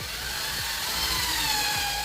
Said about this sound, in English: So I finish off pre-drilling